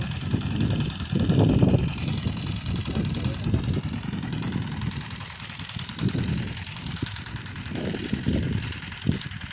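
A kuliglig hand tractor engine runs nearby on a farm field, a rough low putter that rises and falls in uneven bursts, with people talking over it.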